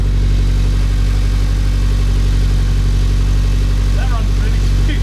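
An Audi A3 race car runs on a new ECU shortly after its first start. The engine holds a loud, steady, close idle with a deep even throb, and a brief higher squeal sounds near the end.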